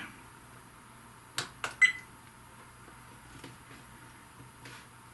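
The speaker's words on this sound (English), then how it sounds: "You can hear it beeping as I go through these." A few short electronic beeps from a dash cam menu in a 2001 Toyota 4Runner, in quick succession, close and clear, followed by faint clicks against quiet background hiss.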